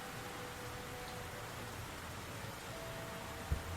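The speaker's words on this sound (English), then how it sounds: "Ooh, it's actually raining." Soft, steady rain in the Black Mirror 3 video game, a quiet even hiss of falling drops with a faint thud near the end and no voices.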